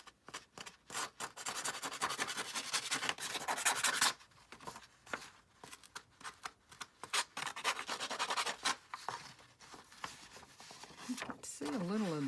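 Paper edges being rubbed and scratched to give a vintage distressed look, a close dry scuffing that comes in rapid bursts, with a person talking intermittently alongside.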